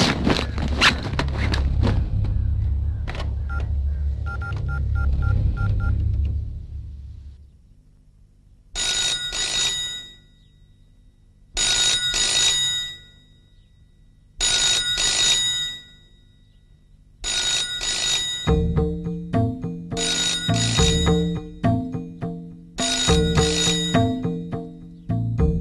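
A mobile phone call being placed: after fading background noise, several short bursts of ringing tones repeat at regular intervals, then a louder, denser ringback pattern continues, close and clear with no speech.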